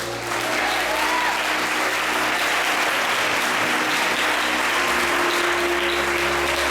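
A church congregation applauds to welcome the preacher at an evening service, a steady, dense wash of clapping that carries on at full strength throughout, with a low hum of voices and music beneath.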